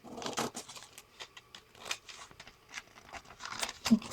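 Scissors snip through cloth in a craft setting, a string of short, quiet crisp cuts with fabric rustle between them, irregular in rhythm and heard up close.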